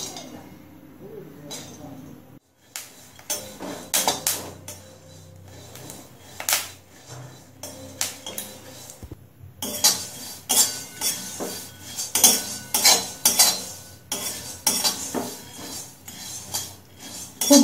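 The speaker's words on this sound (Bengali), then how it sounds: "এবার মগজদানাগুলো ভেজে নেব" Melon seeds are dry-fried in a hot iron wok on a gas stove while a spatula stirs them. The stirring makes frequent close metallic scrapes and clinks in an irregular rhythm against a quiet background.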